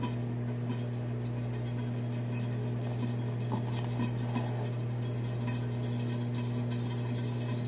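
A hot pan sizzling hard on high heat while breakfast is cooked, a steady dense crackle with a low electrical hum underneath, no talk.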